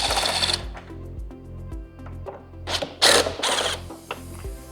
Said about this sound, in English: So there's 8 screws that hold this in place. We're going to start by removing these top 2.